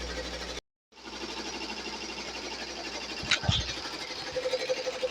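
A Bai Mirror 1501 embroidery machine stitches a design onto a hoodie, giving a steady, fairly quiet mechanical whir with a rapid needle rhythm after a brief drop to silence near the start, plus a couple of short knocks.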